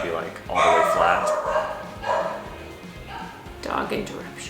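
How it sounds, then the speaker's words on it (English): Dog barks during travel in southern Vietnam, a few loud yapping barks and whimpers in separate bursts, fairly close, with some voices underneath. "Dog interruption."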